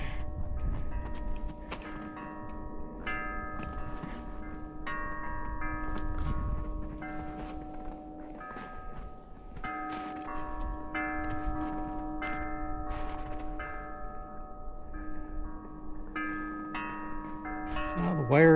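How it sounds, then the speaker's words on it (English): Wind chimes ringing in a backyard near an inverted V maypole antenna, a steady shimmer of overlapping metallic tones sustained throughout with scattered brighter strikes. "Wind chimes are going there."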